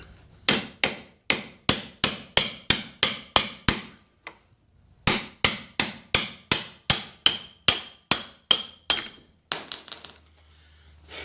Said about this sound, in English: that sound was the pin coming out on the other side